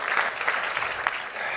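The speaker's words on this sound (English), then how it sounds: "I always prefer if I get the applause after I speak" An audience applauds steadily for a speaker at a November 2019 speech event, dense clapping filling the room, heard alone without talk.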